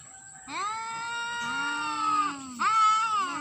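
Two cats fighting at close range, with loud drawn-out yowls and caterwauling that rise and fall, then break into sharper screeching cries.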